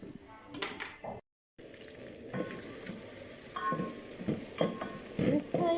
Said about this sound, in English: Then you have to fry it. Here I have the mixture of crushed ginger and garlic